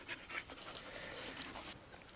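A farm dog pants quietly and close by in quick, short breaths with a few soft breaks and no talk.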